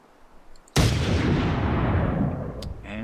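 A single heavy .50-caliber GM6 Lynx sniper rifle shot in ArmA 3 cracks loud and sudden from near silence, then rolls into a long, slowly fading rumbling echo across open terrain.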